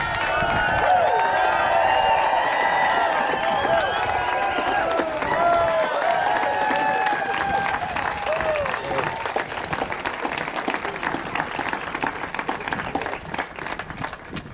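A large outdoor crowd at a 2019 homecoming celebration in Glengarriff for a medal-winning athlete applauds loudly and continuously, dense clapping with cheers and whoops mixed in, gradually thinning toward the end.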